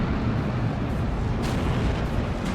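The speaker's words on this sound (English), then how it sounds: "BT-42's ready and waiting to fire off shots once again" In the Steel Division strategy game, BT-42 tank guns fire amid a dense, rumbling battlefield din of booms and explosions, with one sharper report standing out midway.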